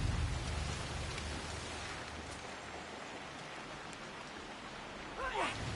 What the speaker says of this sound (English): now it's raining, so it makes it even harder for them to see me